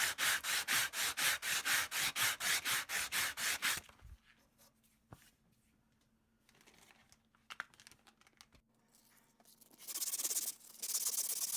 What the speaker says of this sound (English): I really like the finish that this sandpaper gives. It's relatively aggressive.